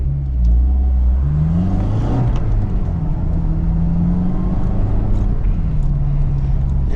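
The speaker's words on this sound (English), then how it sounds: "Just like that, we're in third gear cruising at 20" Manual transmission car pulling away and accelerating up through the gears to third, engine droning steadily with rising and falling pitch as it shifts, loud and close from inside the cabin, with a voice speaking over it.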